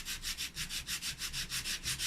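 Close, rhythmic sanding of a surface, about a dozen even back-and-forth rasping strokes in quick succession, steady and moderately loud.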